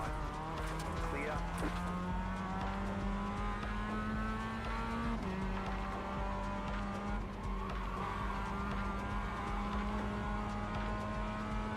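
A Mazda race car's engine revs hard in iRacing, a steady high drone that climbs, drops sharply after a shift, then holds loud and continuous with tyre squeal over it.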